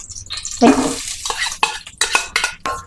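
Onions go into a pot for biryani, a loud clatter of a metal spoon against the pan followed by repeated scraping stirs and a light sizzle, close up and without talk.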